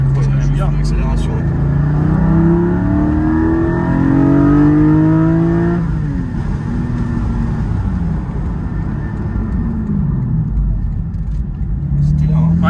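A Porsche 718 Spyder 4.0 accelerates hard, its engine rising in pitch through the gears with a clear shift partway, loud and close from inside the car, while people chat over it.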